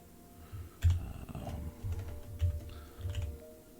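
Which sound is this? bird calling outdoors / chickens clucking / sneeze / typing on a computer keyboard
typing on a computer keyboard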